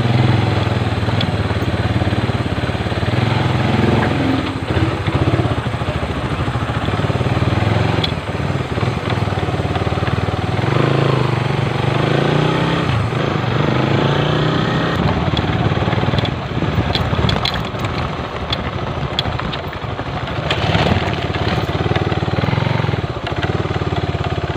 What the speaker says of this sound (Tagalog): Siyempre gamit ko yung motorsiklo ko.